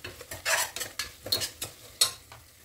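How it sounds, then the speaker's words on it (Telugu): Ginger garlic paste fries in a pan for egg biryani, with a run of stirring scrapes and soft sizzles coming in short bursts close up, plus a couple of bright metallic clinks, no talking. "ఆ అల్లం వెల్లుల్లి పేస్ట్ అనేది పచ్చి స్మెల్ పోయేంత వరకు ఇలా అయితే ఫ్రై చేసుకోవాలి"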